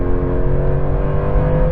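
A Porsche 911 Turbo S engine sends out a loud, steady drone with strong, sustained tones that hold evenly through the short stretch, with no voices.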